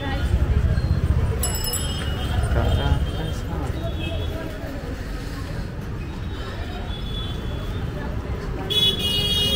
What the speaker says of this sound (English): in India it's very common, people always honk without any reason.